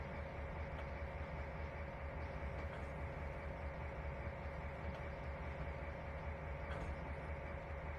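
Train running in the Trainz 2019 simulator on the Tidewater route, a steady faint rolling rumble with a constant engine tone, unbroken throughout.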